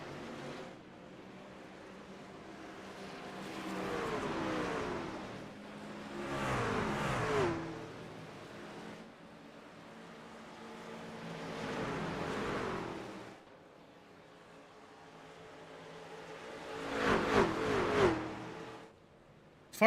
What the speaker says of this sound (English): Many trucks will be flying around here under caution.